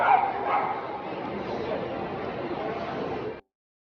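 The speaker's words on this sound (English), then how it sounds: "Oh, there's a dog." A dog yips and barks amid the busy crowd noise of a shopping mall, with short, excited calls close by over a steady murmur of shoppers and chatter.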